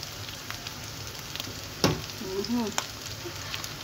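Fried rice frying in a pan gives a continuous sizzle with a few stirring clinks and a louder knock partway through, while a voice is briefly heard.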